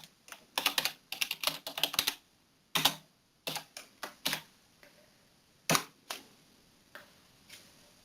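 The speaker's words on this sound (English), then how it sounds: "So I type" Rapid keystrokes on a computer keyboard, a quick burst of clicks followed by sparser single taps and pauses, close and crisp with no talk.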